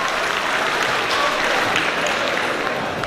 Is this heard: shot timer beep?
no